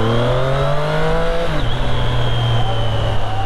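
A Triumph Street Triple R motorcycle pulling in first gear: a loud, close engine note climbs, drops sharply midway as the revs fall, then settles into a steady drone, with no talking.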